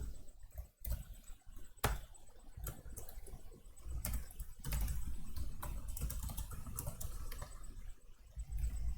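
Fast, quiet tapping on a computer keyboard while writing code in the Vi editor, with irregular bursts of key clicks and a few sharper louder strokes, close up and without talk.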